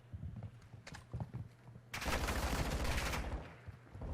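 Gunfire in a Call of Duty: Modern Warfare 2 esports match, with a few scattered shots and then a sustained loud burst of rapid automatic fire lasting over a second, followed by quieter trailing shots.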